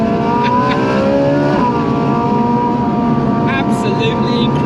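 Ferrari 458 V8 engine revving loudly, its pitch sweeping down then holding a steady high note, a close and continuous roar heard alone.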